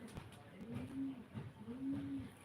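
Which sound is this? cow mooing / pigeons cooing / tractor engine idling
pigeons cooing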